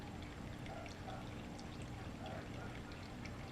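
Liquid pours out steadily while homemade Mexican white cheese is being made, giving a faint, continuous trickling wash with low background noise throughout.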